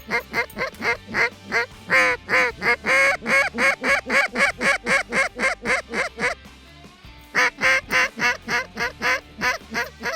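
Mallard ducks honk and quack loudly in rapid, regular bursts as they fly in from the fields, with a brief pause midway before the calling resumes, close and clear.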